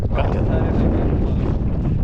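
Strong wind rushes and buffets against the microphone in a steady, rough roar throughout.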